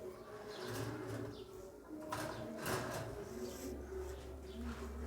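Royal teddy pigeons at a pigeon market in Khulna coo softly at close range in low, repeated rolling calls, with a brief wing flutter and faint background noise, no speech.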